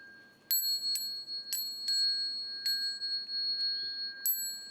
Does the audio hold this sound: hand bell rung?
yes